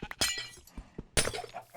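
Glass blocks broken with a silk touch tool in the Minecraft modpack Blightfall, two sharp shattering crashes with small clicks and taps between them, close and loud with no voices.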